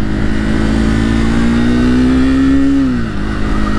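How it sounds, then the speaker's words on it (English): The small engine of a 2024 Triumph Speed 400 motorcycle revs up high and loud, its pitch rising and holding before dropping off, close by and alone. "It revs out pretty high, which I figured it would, because it's a very small engine"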